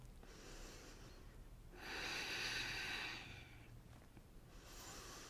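Steady breathing of a person holding a yoga plank during a beginner ab workout, with soft breaths coming and going and one louder, longer exhale in the middle, close and quiet.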